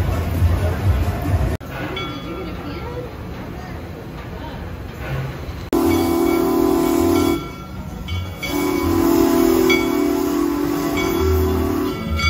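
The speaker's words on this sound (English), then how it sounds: "riding on a train to Kings Island" Steady rumble of a train rolling along the rails at an amusement park in Mason, Ohio, with a loud sustained horn-like tone coming and going over it.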